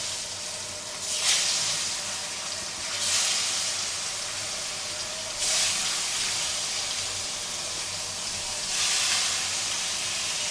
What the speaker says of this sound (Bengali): এখন আমি সুন্দর করে মাছগুলো ভেজে নেব